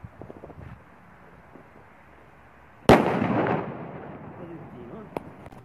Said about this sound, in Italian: Ok, andiamo con i fuochi d'artificio.